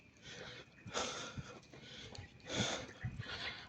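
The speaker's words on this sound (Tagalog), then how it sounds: "hingal to the max" A person walking breathes hard in heavy, rhythmic pants, each breath a loud, close, airy rush repeating roughly every second, with no speech over it.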